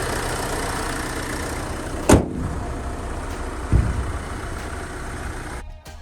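A Renault Laguna III Coupe Monaco GP from 2012 with a 2.0 dCi 173 hp diesel runs steadily close by, a broadband engine drone with two brief sharp knocks before it fades out at the end.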